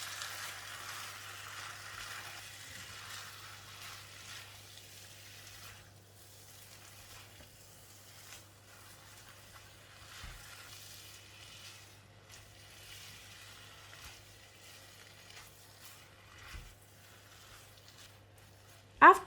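Rice vermicelli with bean sprouts, cooked eggs and crispy fried garlic is stirred in a wok, giving a soft, steady sizzle with faint scraping stirs, fairly quiet and continuous, and a low hum underneath.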